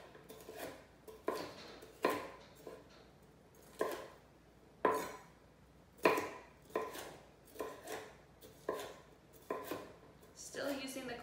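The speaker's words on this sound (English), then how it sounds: "let's cut some thin little julienne strips of this also" A knife slices a vegetable into thin julienne strips on a board, using a claw-and-saw grip, giving a steady series of sharp chopping knocks about once a second, close and alone.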